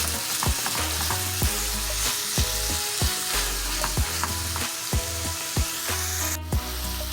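Ground beef mixed with onion frying in a pan for stroganoff, a steady close sizzle broken by repeated sharp scrapes and knocks of stirring at an even rhythm, with a brief hiss near the end and no talking.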